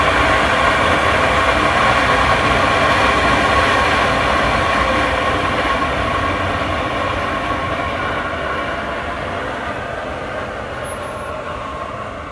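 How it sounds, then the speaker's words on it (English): A steady, loud mechanical roar of an Alliance conveyor parts washer's blower motor running continuously for dry-off, holding constant then easing slightly in level toward the end. "Now we will operate the blower motor for you for the dry off."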